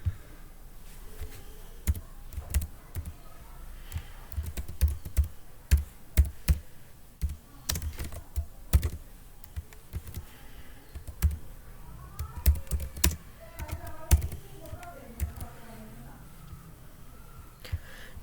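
Keys clack on a computer keyboard while Excel formulas are typed, in irregular bursts of quick taps with short pauses, fairly close and moderately quiet.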